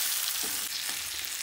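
Carrots roast in oil over a low flame for pickle, giving a steady close sizzle with a couple of soft stirring scrapes, no voices.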